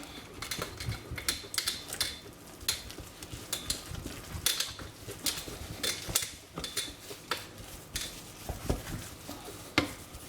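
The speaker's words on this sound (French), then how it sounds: "Je mets ma farine en un seul coup, je la mélange." Flour is stirred by hand into melted butter in a pan taken off the heat to make choux dough: a steady run of scraping and clinking spoon strokes against the pan, close and fairly loud, with no voice.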